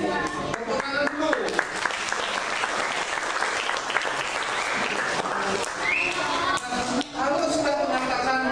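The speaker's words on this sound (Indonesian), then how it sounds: "Tepuk tangan dulu." An audience of young students at a Hindu dharma talk held by Yayasan Tri Murti in Malang gives sustained, even applause. The clapping fills the whole stretch, with some crowd voices mixed in.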